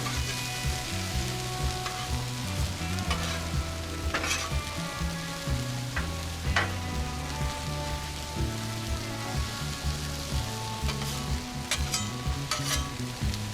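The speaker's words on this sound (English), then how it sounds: "Hit the griddle with a little more oil. And get those potatoes all on there." Potatoes and corned beef hash fry in oil on a Blackstone griddle, a dense, steady sizzle with scattered pops and crackles throughout, close and even, with occasional light scraping and no voices.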